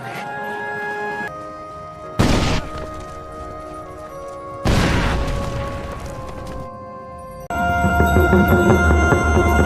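Two sudden heavy booms from landmine explosions burst out, each fading into a rumbling tail, set against a tense sustained musical drone.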